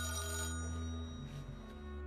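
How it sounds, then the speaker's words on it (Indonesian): A landline telephone bell rings with a bright, sustained metallic tone, close and clear, fading slightly toward the end. "telepon rumah tiba-tiba berdering"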